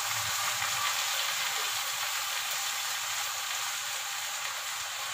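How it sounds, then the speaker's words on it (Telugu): Gongura leaves frying in a pan, a steady bright sizzle that holds evenly throughout, moderately loud and close. "సో ఇది ఇలా మొత్తం ఫ్రై అవుతుందండి."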